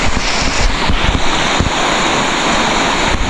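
Loud, steady rushing of a fast-moving river, a dense roaring wash that never lets up, with some wind buffeting the microphone.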